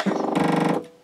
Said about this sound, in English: And that noise was the machine calibrating itself